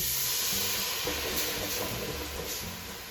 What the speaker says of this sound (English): now I'm ready to deglaze the pan with my wine and my stock